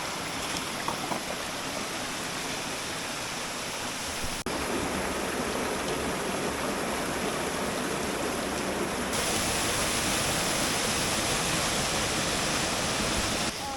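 A mountain creek flows steadily near a wet bush track after torrential rain. It is a loud, unbroken broadband rush with no pauses, very close by, and no one speaks.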